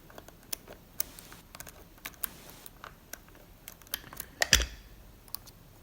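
A Batarang pick is rocked inside a Kwikset lock fitted with spool pins under light tension, producing a quick run of tiny metallic ticks and clicks, close and faint, ending in a louder rattling clack.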